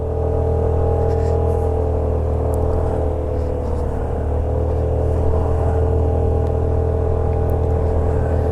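A Suzuki Burgman scooter's engine drones steadily up close as the rider climbs the steep, tree-lined Pacet–Cangar road, the motor held at a sustained high pitch with wind rush and no clear rise or fall.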